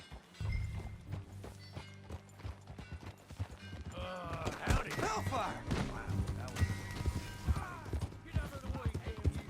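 A horse's hooves clop along at a steady walk in Red Dead Redemption 2 while someone speaks briefly, with game music and ambient sounds underneath.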